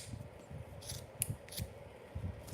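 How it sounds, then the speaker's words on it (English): Scissors cutting hair at close range, several crisp snips in an uneven rhythm over a soft rustling background, with no talking. "Let's cut this right here."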